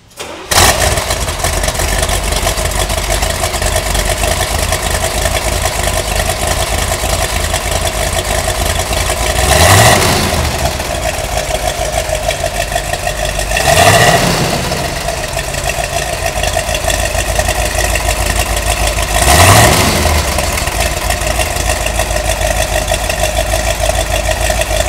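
A 1965 or 1971 Corvette big-block V8 cranks and fires, then settles into a loud, steady, gurgling idle heard up close, with three brief revs of the throttle spaced through the run.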